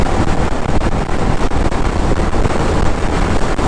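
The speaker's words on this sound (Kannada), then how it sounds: "ಹೆವಿ ಗಾಳಿ" Heavy wind roars against the microphone while riding a Pulsar 150 motorcycle on a road trip to Dhanushkodi, a loud, continuous buffeting rush with no talk.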